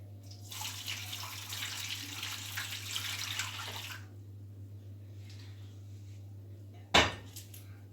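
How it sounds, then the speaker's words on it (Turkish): Warm milk pours from a pot into a tray in a steady liquid stream for about four seconds, followed by quiet and then a single sharp clank of the vessel being set down. "Isınan sütümüzün yarısını tepsiye alıyoruz."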